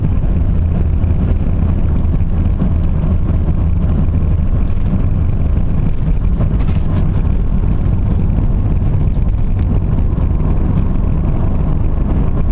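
A car driving along a road toward the beach, with a steady loud rumble of engine and road noise and wind buffeting, continuous throughout.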